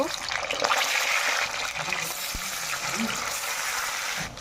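Stuffed bread sizzles in hot white oil in a wok, a steady, dense frying hiss with occasional bubbling and a faint voice in the background.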